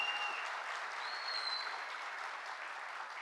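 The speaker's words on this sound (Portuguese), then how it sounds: "Uma salva de palmas a ela" A crowd at a government signing ceremony with President Lula breaks into steady, even applause, a continuous wash of clapping heard from a moderate distance without speech over it.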